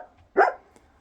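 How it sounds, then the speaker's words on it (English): A female dog on a farm with new puppies gives a single sharp bark at close range, with a faint second yip after it and quiet surroundings otherwise. "she barks at me a lot"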